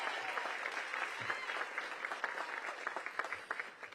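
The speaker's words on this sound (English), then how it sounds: "Give Michelle a big round of applause." Audience applause at a hospital ribbon-cutting ceremony for Cedar Hill Regional Medical Center, a dense run of many hands clapping, steady and moderately loud, tapering slightly toward the end.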